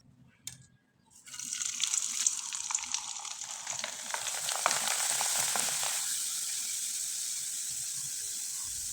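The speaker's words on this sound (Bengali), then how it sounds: "এবার কিছুটা পিঠা আমি ভেজে আপনাদের দেখিয়ে দিচ্ছি।" Leftover-rice jhuri pitha frying in hot oil: a steady, loud sizzle and bubbling hiss that begins abruptly after a brief quiet start and continues alone, easing slightly toward the end.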